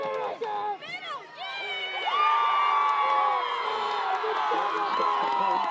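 Home fans cheer at a high school football game, Governor Mifflin against Spring Grove in a PIAA District III semifinal. Whoops and shouts rise into a sustained, distant crowd roar that swells and holds.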